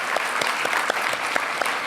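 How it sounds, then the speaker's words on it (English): Applause rises from a conference audience for the speakers at a plenary session, a steady wash of clapping with regularly spaced louder claps standing out, moderate in level. "let's give one big round of applause to all the speakers again"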